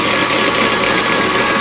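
Lathe turning 8620 steel for a tailstock part, cutting the scale off the outside, a steady loud machining drone with engine-like hum and broadband grinding noise throughout, no talk.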